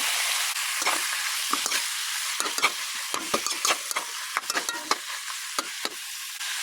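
Squid sautéing in a pan for adobong pusit, a constant bright sizzle broken by repeated spatula scrapes and taps, close and alone.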